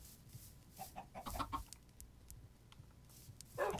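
Chickens in the video game Minecraft give several short, scattered clucks, fairly soft, over quiet game ambience with no talking.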